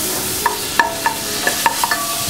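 Two tablespoons of butter melt in a pan for spinach lasagna, giving a soft, close sizzle with a quick series of sharp utensil clinks and taps.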